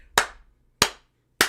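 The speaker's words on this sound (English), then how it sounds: "Slow clap for you people being patient for me" Three slow, deliberate hand claps ring out sharply and close, evenly spaced about two-thirds of a second apart with silence between.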